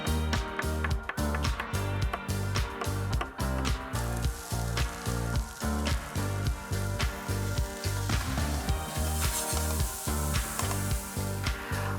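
Mushrooms sizzle and fry in a pan for a beef and mushroom pepper pie, a steady close crackling hiss with some rhythmic knocking or stirring, and no voices.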